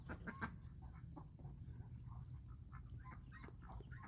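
Chickens cluck softly in a snowy Missouri backyard, with faint, scattered calls over a low, quiet background.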